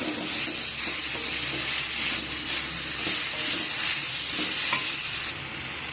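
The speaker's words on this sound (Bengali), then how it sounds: "পেঁয়াজ রসুন সব একসাথে আবার আমি নেড়ে নেব।" Onion, garlic and tomato being stirred while they fry in a pan: a steady, close sizzle with continuous scraping stir noises and no talking.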